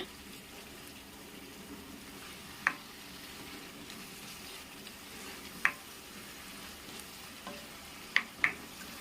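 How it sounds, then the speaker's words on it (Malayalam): Chopped tomatoes sautéing in a pan for egg curry gravy, a soft continuous frying hiss with a few sharp clicks of a spoon stirring against the pan, no voices. "തക്കാളി ഇപ്പോൾ ചേർത്ത് കൊടുത്തിട്ട് നമുക്ക് വഴറ്റിയെടുക്കാം"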